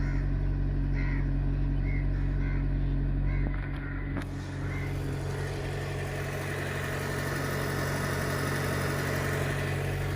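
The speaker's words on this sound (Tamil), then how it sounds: "இன்ஜின் சவுண்டு தான் உங்களுக்கு கேட்குது வேறு எந்த சவுண்டும் கிடையாது" A car engine idles steadily, a low continuous rumble throughout, with a few faint bird calls in the background early on.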